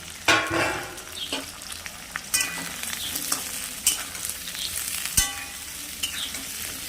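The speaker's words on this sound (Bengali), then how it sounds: "পেঁয়াজটা একটু হয়ে হয়ে এসছে এইবার আমি এই আলুগুলো ঢেলে দিলাম" Potatoes and onion fry in a pan, a close sizzle broken by several sharp scrapes and clatters from stirring at irregular intervals.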